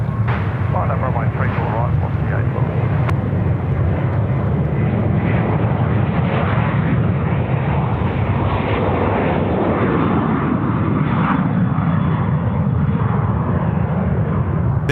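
A Velocity airliner on its takeoff roll from runway 34 right at Sydney Airport: a loud, continuous jet engine roar that stays strong throughout, with people talking over it.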